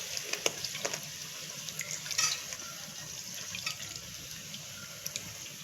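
Tamarind juice poured into a pot of simmering fish curry makes a faint, steady trickle of liquid, with a few soft drips and clinks.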